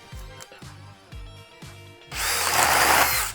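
DeWalt DCD800 cordless drill boring into wood: several short bursts of the motor spinning up, then a loud, sustained grinding drive as the bit chews through the wood.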